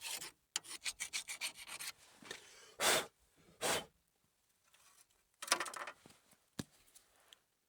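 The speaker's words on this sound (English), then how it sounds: "cleaning up the mating surface. I'm using a file." A metal hand file scraping rust off the hub mating surface of a GMC Yukon, in a rapid run of short rasping strokes followed by a few slower, isolated rubs, close and loud with pauses between.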